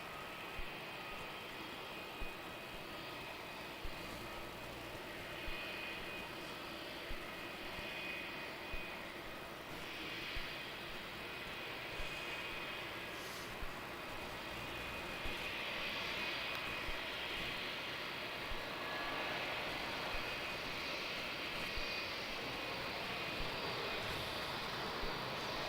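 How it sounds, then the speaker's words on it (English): An Emirates Boeing 777 on short final at Melbourne Airport at night, heard as a faint, steady, distant jet whine that grows slightly louder over about twenty-five seconds, with a soft repeating tick in the background. "I can see the Emirates on a short final"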